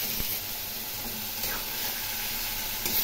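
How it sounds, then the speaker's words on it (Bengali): Spices sizzle in hot oil while being fried for a rui fish curry, a continuous close hiss with occasional soft stirring scrapes. "এখন এটি আমি কষিয়ে নেব।"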